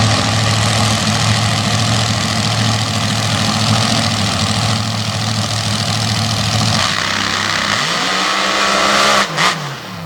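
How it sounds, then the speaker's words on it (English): A paddle tire drag race car with a Brasket Race Cars chassis and a 581 cubic inch Hemi engine idles with a loud, heavy, lumpy rumble, then revs up sharply near the end on a sand racing track. "Chassis built by Brasket Race Cars, running a 581 cubic inch Hemi engine."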